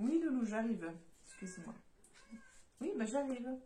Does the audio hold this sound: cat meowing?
yes